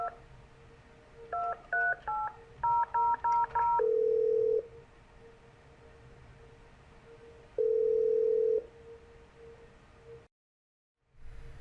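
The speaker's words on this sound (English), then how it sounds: "When roaming in Halifax, Chloe can dial Halifax local 10-digit numbers." A telephone keypad dials a local 10-digit number: a quick run of about ten short beeping tones, then two long steady ringing tones separated by a pause, all clear and close.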